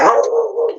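A single loud dog bark, close by, drawn out into a brief whining yip, heard alone without talk.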